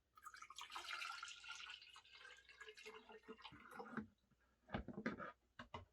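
Water is poured onto potted hoya plants indoors, a continuous trickling splash for about four seconds followed by a few separate drips and pours, fairly close and clear.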